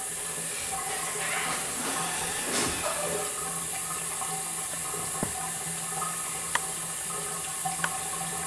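Water trickling and dripping from a leaking joint on a bathroom faucet, a steady faint hiss of running water with a few sharp drip ticks near the end.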